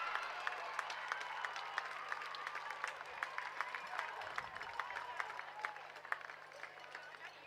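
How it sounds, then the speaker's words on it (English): Crowd applause and cheering for schoolgirl second eight rowing champions and medalists at the 2025 NSW Schoolgirl Head of the River regatta, a steady dense clapping that runs throughout at moderate distance, with scattered louder claps. "a very big round of applause and make some noise for your schoolgirl second 8 champions and medalists"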